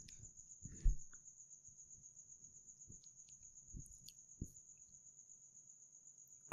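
Crickets chirp in a thin, continuous high-pitched trill, quiet and steady, with a few soft clicks and low thumps underneath.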